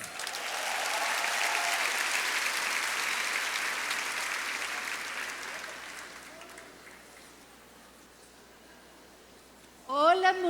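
Sustained audience applause at a women's congress for a guest speaker, broad and steady at first, then gradually fading; a voice begins speaking near the end.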